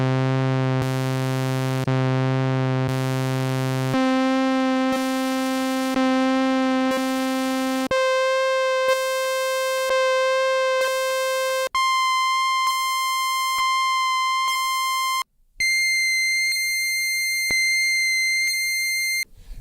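Steady electronic synth tones from a vintage 1980s analog synthesizer step upward through a series of octaves, each held note pulsing in a regular on-off rhythm, bright and buzzy, with slight oscillator pitch differences.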